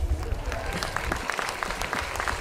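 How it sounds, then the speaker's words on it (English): A crowd at a Stop Asian Hate rally in Austin breaks into applause outdoors, a lively spatter of claps and cheers with a speaker's voice carrying over it. "give yourself a clap"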